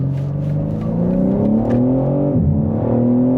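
Steady engine note from a 2023 BMW M3 Competition xDrive (G80), rising in pitch as it revs, dipping briefly and climbing again, heard close and loud from inside the car with no talk.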